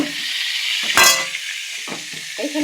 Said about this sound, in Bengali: সবজিগুলোকে ভালো করে এখন ভাজবো